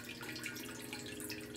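Washer fluid glugs from a jug into a tractor tire as cheap added weight, a steady close pouring and gurgling of liquid with no voices.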